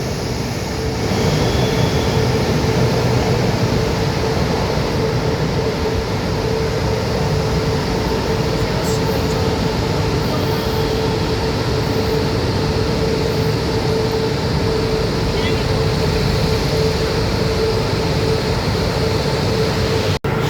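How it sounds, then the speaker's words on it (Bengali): A long train pulls away from a platform at Yiwu railway station in China, giving a continuous, even rumble and drone that holds steady for about twenty seconds. "আর পাশে আর একটা ট্রেন ছেড়ে চলে যাচ্ছে"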